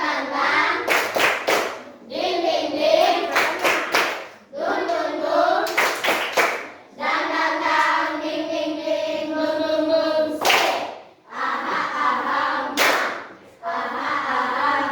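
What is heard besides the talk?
tepuk semangat, rhythmic spirit clapping by class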